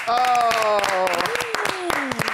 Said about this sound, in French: On applaudit pour toi.